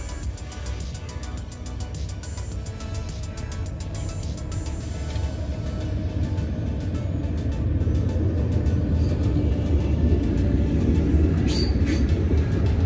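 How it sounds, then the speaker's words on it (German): Train passing close by a hiking path near a station, a steady rumbling roar of wheels on rails that swells louder toward the end, with no talking. "Da kommt schon wieder ein Zug."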